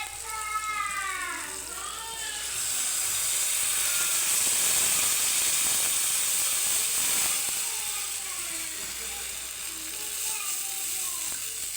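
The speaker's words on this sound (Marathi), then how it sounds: "आता मी यात पाणी टाकून देणार आहे" Sharp hiss as water hits a hot pan of spiced besan pitla masala, settling into a steady bubbling sizzle with faint voices in the background.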